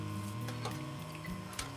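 Sewing machine free-motion stitching a quilted tea cozy, a steady close mechanical whir with rapid ticking needle strokes running throughout, no talking.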